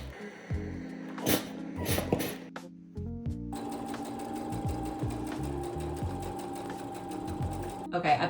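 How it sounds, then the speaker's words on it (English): A sewing machine stitching quilt rows together for a baby quilt, running in bursts with a rapid mechanical whirr and hum that starts and stops, then sews steadily for several seconds, close by. "I really think I can sew all my rows together."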